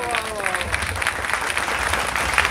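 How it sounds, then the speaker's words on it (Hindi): Audience applause greeting the chief guest at a patriotic poetry gathering, steady crowd clapping mixed with voices. "जोरदार तालियों से स्वागत कर दीजिए।"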